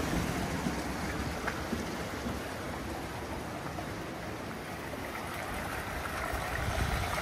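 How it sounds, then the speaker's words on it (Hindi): Water by the Tirthan river runs through a wooden channel into a flour watermill, making a soft, continuous rushing hiss that holds steady throughout. "देखो यहाँ पानी चलता अंदर।"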